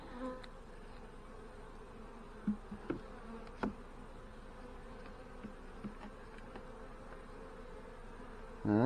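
Honey bees buzz around an open hive, a soft steady drone with a few louder passes close by and some faint handling knocks.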